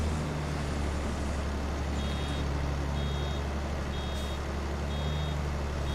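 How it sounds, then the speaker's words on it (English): Reversing beeper on a vehicle in Farming Simulator 22, a steady repeating high beep over a continuous low engine rumble, fairly loud and without talk. "There's that beeper again."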